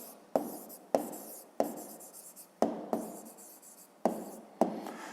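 Pen writing an answer by hand for a fifth-grade maths exercise, heard close up as a series of sharp strokes, about seven distinct scratchy onsets each fading quickly, with no talk.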